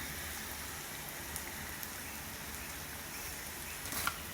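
Fryums, crisp snack pellets, frying in hot oil in a home kitchen, giving a steady, close crackling sizzle like rain that runs without a break and rises briefly near the end.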